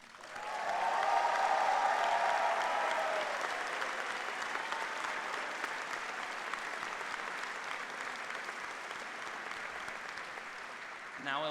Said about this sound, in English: we need to give a hearty applause to the person who really made this ceremony possible